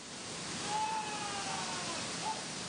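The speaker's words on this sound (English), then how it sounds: "The great leap forward was to quit meditating by the waterfall and get under it." A waterfall pours in a continuous broad rush of water at moderate level, with a faint tonal whine drifting through the steady roar.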